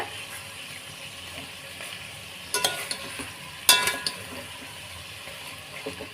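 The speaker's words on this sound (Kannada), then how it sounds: "ಈ ಥರ ಚೆನ್ನಾಗಿ ಎಣ್ಣೆಯಲ್ಲೇ ಫ್ರೈ ಮಾಡಬೇಕು ಇದನ್ನು" Mutton frying in oil over a high flame, a steady close sizzle punctuated by several sharp metallic stirring clanks and scrapes in the pan, with no one talking.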